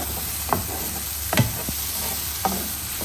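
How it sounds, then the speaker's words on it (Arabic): A pepper and small garlic cloves fry in a pan, producing a continuous close sizzle broken by a few scraping knocks as they are stirred. "أقلبهم شوية حتى الثوم يكون اللونة مالته"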